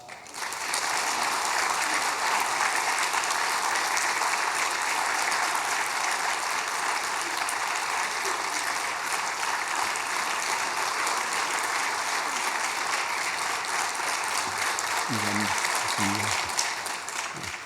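A church congregation at a Sunday evening service applauds to welcome the pastor, with sustained, even clapping throughout and a few brief mechanical clicks near the end.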